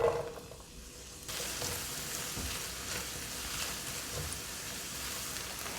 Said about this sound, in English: This is 1 onion diced. We're going to give it a little bit of caramelization, a little bit of color